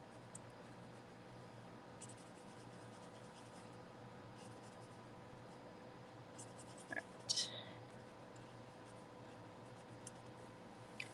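Marker tip scratching softly across a stamped card as it is colored in with a Stampin' marker, faint and steady, with a few slightly louder strokes near the end.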